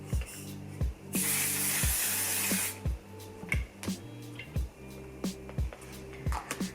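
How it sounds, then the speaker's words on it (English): A steady hiss of Until Dawn mattifying waterproof makeup setting spray for about a second and a half, close by, with soft rhythmic thumps and clicks in the background before and after. "Using the Upsize setting spray Until Dawn mattifying waterproof setting spray."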